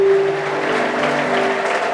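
A church congregation in Hawassa, Ethiopia claps together during a service, a loud, steady wash of applause with a faint sustained tone running beneath it.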